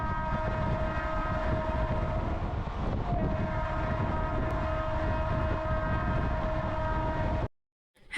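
Passenger train at platform 6 of a station, a steady low engine rumble with a sustained horn-like tone throughout, ending abruptly in silence; no talking.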